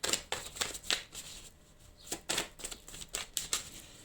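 Tarot cards being shuffled in repeated quick riffles and slaps, close and fairly quiet, with a short pause midway before the shuffling resumes.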